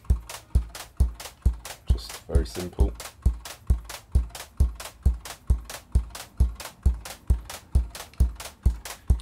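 Nord drum kick and hi-hat fired by optical synth triggers, a steady repeating beat of punchy low thumps and crisp ticks at an even tempo, with someone speaking briefly over it.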